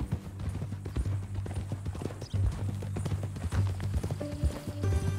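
Steady clip-clop of horse hooves on hard ground in the video game Red Dead Redemption 2, a regular walking rhythm with a low musical drone underneath.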